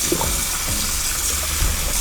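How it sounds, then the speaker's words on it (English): Cold tap water streams steadily over freshly cooked noodles draining in a colander in a home kitchen, a continuous close splashing rush with no talk. "drain them in the colander and then immediately get cold water on them"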